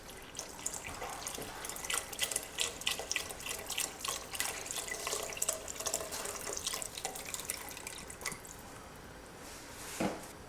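Chicken broth pours and splashes steadily into a pot with gurgling and dripping, a continuous wet trickle with a brief louder slosh near the end.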